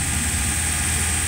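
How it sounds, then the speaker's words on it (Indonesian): A Suzuki APV engine held at raised revs produces a steady, loud, continuous drone with a constant low rumble and a high whine throughout, with no voices. "Nah ini digas dulu."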